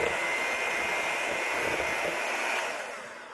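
Banana bread ingredients, including salt, being mixed with an electric mixer: a steady, loud motor whir that runs continuously and fades slightly at the end, with no talk.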